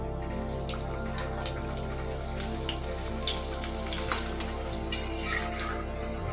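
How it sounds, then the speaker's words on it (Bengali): Raw potato slices frying in hot oil in a pan, a steady bubbling crackle with light sizzling pops throughout, close and even, no voices. "এইভাবে আমরা আলুর চিপসগুলো সবই ভেজে নেব লাল লাল করে"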